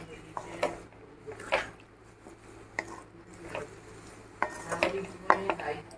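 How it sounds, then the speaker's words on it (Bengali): Rice is stirred in a pan for a Thai-style chicken dish, with intermittent spoon scrapes and clinks against the pan in irregular bursts, fairly quiet, with a faint voice in the background. "দেখো এবারে আমি রাইসটা দিয়ে দেবো, রাইসটা নাড়তে থাকবো।"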